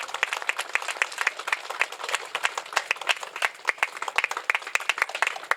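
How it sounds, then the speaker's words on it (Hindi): An audience at an Ashoka Vijayadashami gathering in Barwaiya, Patna claps loudly in honour of a guest, giving a dense, uneven burst of many hands that continues without pause for several seconds. "इनके भी सम्मान में तालियां हो जाए।"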